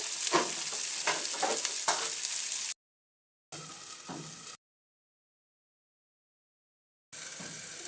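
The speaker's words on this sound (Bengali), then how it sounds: "এমনিতেই মশলার সাথেই এটাকে আমি ভালো করে কষাবো।" Tomatoes frying dry with masala in a pan, no water added, for a Bengali tomato curry with shor puti fish. A steady sizzle with stirring scrapes comes in three bursts, broken by two stretches of silence.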